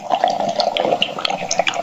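Bubbles blown through water in a simple breathing device, a steady burbling, gurgling stream heard close and fairly loud for about two seconds with no talk over it.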